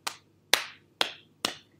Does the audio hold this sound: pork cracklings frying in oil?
no